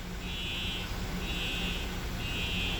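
A school fire alarm sounds in repeated high buzzing bursts, about three pulses with short gaps, loud and steady against a constant background hum in a building at Consolidated School in New Fairfield, Connecticut.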